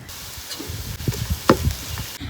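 Chopped ginger and garlic hitting hot oil in a pan for onion rice, giving a close crackling sizzle with scraping stirs and a sharper burst midway, no voices.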